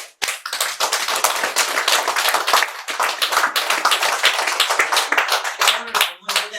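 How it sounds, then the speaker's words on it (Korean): Bursts of hand clapping from an audience at a Buddhist dharma talk, sharp irregular claps that rise and dip, briefly pausing near the end, with a voice faintly present. "박수 쳐."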